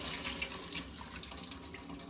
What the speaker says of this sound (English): So you want to go ahead and rinse it out.